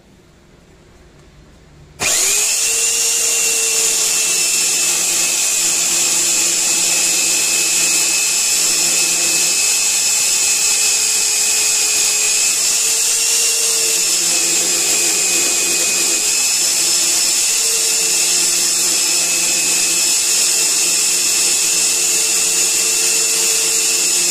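A Parkside metal band saw, blade already resting on the steel, starts up and cuts continuously with a steady loud whine and ringing tones, close and unbroken for over twenty seconds with no talking.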